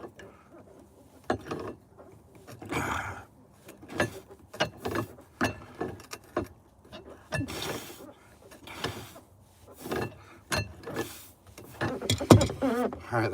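Mechanical ratchet screwdriver clicking while turning fasteners in boat flooring, a series of irregular ratcheting bursts with scattered knocks, fairly close and moderately loud.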